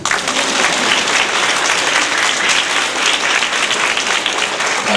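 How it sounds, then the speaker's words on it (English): Loud, dense applause from a large crowd at a 1983 school graduation, sustained and even throughout without pause. "Just clap."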